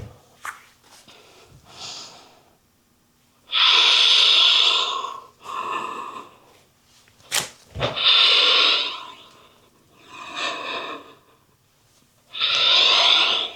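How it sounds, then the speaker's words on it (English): Deep, forceful breaths during a vinyasa yoga flow, long loud exhales through the nose alternating with softer inhales in a steady rhythm, close and alone with no talking. "Deeper breaths today if you can."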